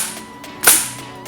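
A .22 air rifle fires a 34-grain pellet on power setting 4: a single sharp, snappy crack close by, followed by a brief fading tail, with no voices.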